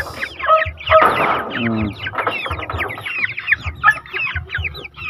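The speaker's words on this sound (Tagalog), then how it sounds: "Yung manok na broiler, 11 days na sila ngayon guys" A flock of broiler chickens, about 11 days old, clucks and chirps busily up close, overlapping calls in a constant chatter with a few louder squawks.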